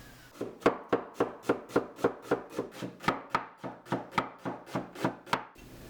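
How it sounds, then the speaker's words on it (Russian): Steady knife chopping onions on a board, about sixteen crisp evenly spaced strikes, close and clear with no talking. "Сразу подготавливаем лук, будем нарезать."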